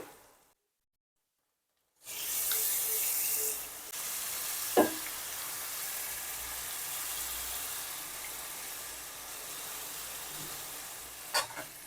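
Marinated prawns, with turmeric in the pan, drop in for a Telugu prawn biryani. After a moment of silence a loud sizzle bursts up, then settles into steady frying with a few sharp utensil knocks.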